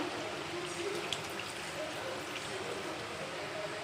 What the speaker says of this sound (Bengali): অল্প একটু পানি দিয়ে দিব এই যে জাস্ট ঝোলটা হওয়ার জন্য